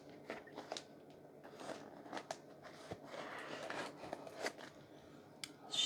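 A blade cutting open a shipping cardboard box: quiet, intermittent scratchy slicing and crackling strokes in short bursts, close by, with no talking.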